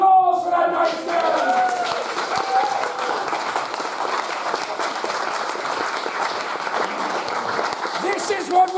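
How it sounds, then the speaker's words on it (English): A live theatre audience at Portmeirion gives a man a sustained round of applause, loud and dense throughout, with a voice speaking over the start as the clapping swells. "A round of applause for that nice man."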